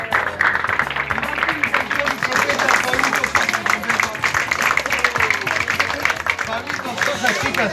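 Audience applause for a singer at a celebration, a dense, steady wash of many hands clapping with crowd noise throughout, loud and continuous.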